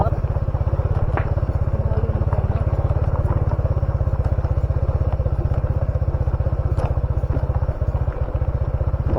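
A motorcycle engine runs steadily on the ride home, a close, continuous low throbbing pulse with faint rattles and thumps from the road.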